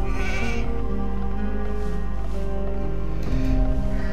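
Sheep bleat in the Age of Empires II video game, a short bleat heard over a steady game soundtrack with layered tones and no talk.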